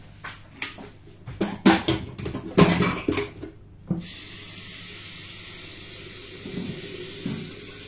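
Dishes clatter and knock in a home kitchen, then a tap runs in a steady, even stream, filling water to heat for tea, with a faint clunk near the end.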